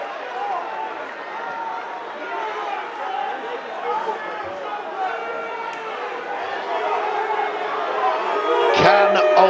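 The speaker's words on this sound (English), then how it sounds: "You can hear what the crowd think of this." A rugby league crowd at a Widnes versus Oldham match murmurs and chatters in a broad babble, swelling louder near the end with shouts and whoops from the stands.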